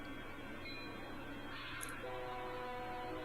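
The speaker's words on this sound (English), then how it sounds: "we got a ballast train. Yep. With an SD60? No, SD70 on it." Ballast train hauled by an SD70 locomotive rolling by, a steady low rumble with faint wheel squeal and a brief high squeak, continuous and moderately distant.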